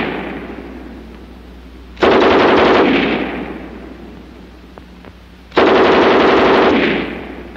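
A German MG 34 machine gun fired from its bipod lets off two long sustained bursts of rapid automatic fire, each lasting around a second, loud and close, with a quieter ringing pause between them.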